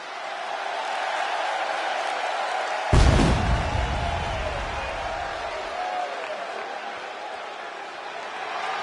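In the wrestling video game WWE 2K26, an arena crowd roars steadily throughout, with a sudden loud boom and a swell of cheering partway through, then the crowd noise stays broad and sustained.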